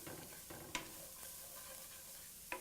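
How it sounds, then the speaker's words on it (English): A ground herb blend sautéing in a pan gives a soft, quiet continuous sizzle, broken by a couple of faint scraping stirs of a utensil. "So let's go ahead and saute that up."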